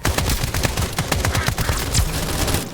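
Dense, rapid gunfire fills a shootout in the video game Escape From Duckov, rattling bursts and overlapping shots hammering continuously and loudly throughout.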